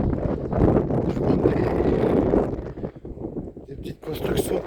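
Gusty wind buffets the microphone while mountain biking along the shore of Lac de Pareloup, a loud, broad rumbling roar that runs steadily before easing briefly near the end; someone speaks a few words beneath it.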